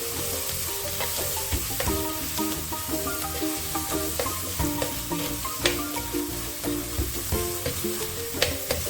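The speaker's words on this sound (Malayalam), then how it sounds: "ഇടത്തര ഇഞ്ചി ചതച്ചത് ഒരു മൂന്ന് വെളുത്തുള്ളി ചതച്ചത് നാല് പച്ചമുളക് ഇതെല്ലാം കൂടി മിക്സ് ചെയ്യാം" Crushed ginger, garlic and green chillies fry in a pan while being stirred, a lively close sizzle with rhythmic scraping and clattering of a spoon against the metal, no voices.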